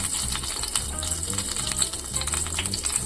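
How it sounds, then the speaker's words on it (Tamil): Mustard and cumin seeds frying in hot oil in a kadai give a steady, close sizzle with scattered crackles and pops throughout, with no voices. "நல்லா கடுகு சீரகம் பொரிஞ்சிடுச்சு"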